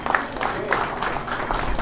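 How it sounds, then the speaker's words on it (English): A brief burst of audience clapping greets a speaker returning to the stage at a product launch event, uneven and fairly close, mixed with voices. "Round of applause for Winston."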